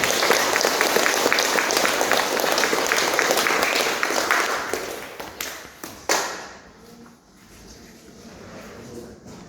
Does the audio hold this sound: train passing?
no